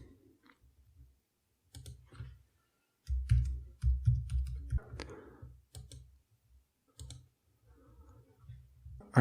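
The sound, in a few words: typing and clicking to log in to NordVPN on Mac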